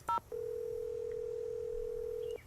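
Telephone dialing in the Nancy Drew game The Secret of Shadow Ranch: a short dial-tone burst, then a long steady tone lasting about two seconds before it cuts off, clean and quiet.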